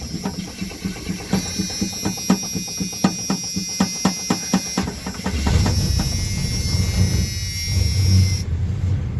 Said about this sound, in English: so let's see how quick it'll start up.